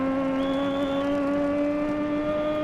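A Triumph supersport motorcycle engine in the racing game TT Isle of Man: Ride on the Edge 3 holds a steady, loud tonal drone at high revs, even and sustained with no talk over it.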